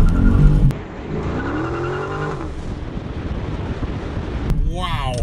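A Dodge Scat Pack pulls away from about 15 mph in first gear, its engine roaring loudly with tire spin and wind buffeting the microphone, while a voice is heard.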